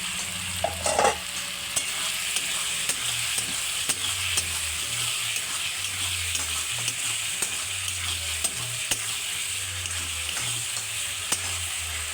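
Pre-fried potatoes are stirred into sizzling masala in a pan while cooking an aar fish curry. A continuous frying hiss runs under regular scraping strokes of the spatula.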